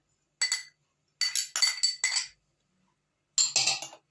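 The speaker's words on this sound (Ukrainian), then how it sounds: "І потім все це перемішаємо, додаючи сюди майонез, сир" Utensils clink against a glass bowl while salad of sausage, corn, mayonnaise and cheese is stirred, with a few separate bursts of chinking spread out and nearby.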